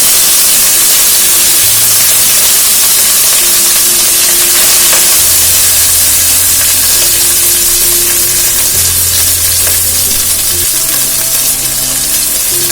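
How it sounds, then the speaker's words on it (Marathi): Cooked rice tipped into a pan of sizzling cumin for masala jeera rice, a loud, constant frying hiss with occasional stirring scrapes running throughout, no voices. "आणि आता यात आपण जो मगाशी भात शिजवून घेतला तो घालून घेऊया"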